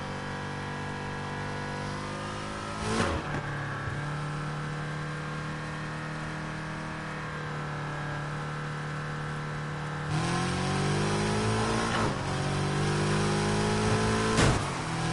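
A V8-swapped Acura RSX in the racing game NFS Heat holds a loud steady engine drone, with sharp rev spikes and gear changes rising and falling over the engine, no voices.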